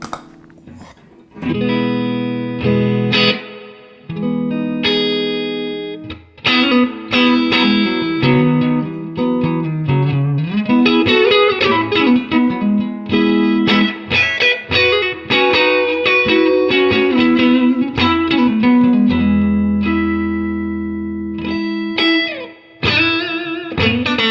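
Electric guitar played through a clean Fender Super Reverb amp with no pedal, chords and single notes ringing with natural spring reverb, loud and close, alone without any talk.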